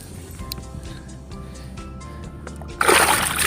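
A released redfish splashing back into the water, a sudden loud close splash and slosh arriving near the end after quiet ambient water and boat noise.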